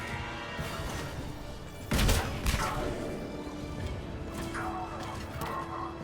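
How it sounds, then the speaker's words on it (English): In Mass Effect 3, a sharp burst of gunfire cracks out briefly amid steady background game noise while a voice talks over it. "Is that my team shooting me in the back?"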